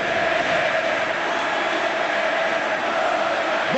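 A packed Boca Juniors football stadium roars after a Boca goal against Godoy Cruz, a dense, steady wall of crowd shouting and chanting that holds at full loudness throughout.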